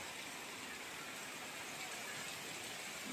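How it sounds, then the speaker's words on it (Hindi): Heavy rain pouring steadily outdoors on a morning after an all-night downpour, a dense, even hiss that holds without pause throughout. "और जम के बारिश हो रही है।"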